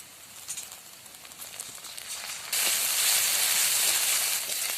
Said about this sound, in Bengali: এবারে দিয়ে দিচ্ছি বেটে রাখা আদা রসুন আর কাঁচা লঙ্কা